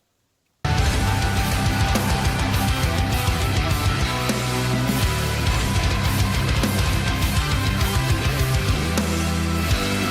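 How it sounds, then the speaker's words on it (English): A full drum kit plays the double bass section of a song bridge, with a relentless rapid kick drum under crashing cymbals, loud and dense. It starts abruptly after a brief silence and carries on with no talking. "So this is a double bass section."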